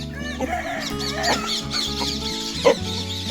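Hens on a farm cluck and murmur close by, a busy overlapping chatter of short calls with one sharper squawk near the end.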